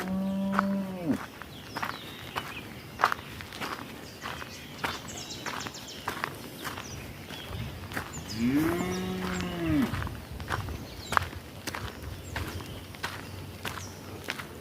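A cow in the Kenyan countryside lets out two loud moos several seconds apart, with a quieter lowing between, over scattered footsteps or hoof clops and outdoor background.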